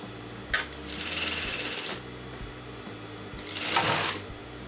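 A sewing machine runs in two separate bursts as it stitches notches at the neckline of a kameez. Each burst is a steady, close, rapid mechanical whirring with a short pause between, and no talk.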